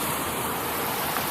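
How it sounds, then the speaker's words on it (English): Bicycle riding slowly through a big puddle, a steady, loud wash of splashing water and tyre spray that fills the whole moment without a break. "Oops, that's a big puddle. Have to ride slow through that."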